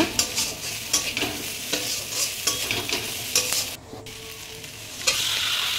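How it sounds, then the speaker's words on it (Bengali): Ground cumin, coriander and black pepper masala frying in a pan for a mutton and green papaya curry: loud continuous sizzling with rhythmic spatula scrapes, a brief dip, then a steady hiss resuming. "এবার আমি মশলাটাকে ভালো করে কষিয়ে নেব।"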